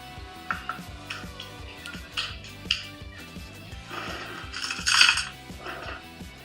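Orzo pasta salad with gorgonzola being stirred in a dish, soft irregular clinks and scrapes of a utensil against the bowl, close and fairly quiet, under background music.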